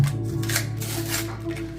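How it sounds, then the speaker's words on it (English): Pokémon card booster packs are shuffled together by hand, a close, steady papery rustling and flapping of foil wrappers lasting a couple of seconds. "I was thinking of like shuffling all the packs, even the Lost Origin booster"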